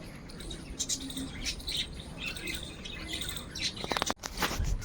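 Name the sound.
pigeons and chicks cooing and squawking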